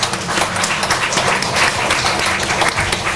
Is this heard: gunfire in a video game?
no